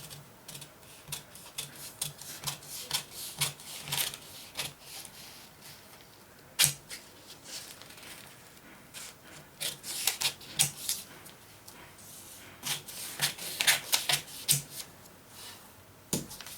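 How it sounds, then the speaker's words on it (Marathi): Scissors cut through blouse sleeve fabric on a table, a series of close, crisp snips in irregular bursts separated by brief pauses, with no voices. "बॅक मुंड्याच्या आकाराने ही बाही कापून घेणार आहे"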